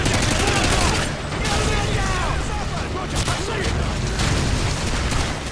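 Rapid, heavy gunfire and explosions in Modern Warfare 2 combat, loud and continuous throughout, with voices mixed in under the shooting.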